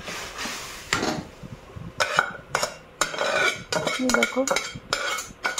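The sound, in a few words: curry poured into an oiled kadai and stirred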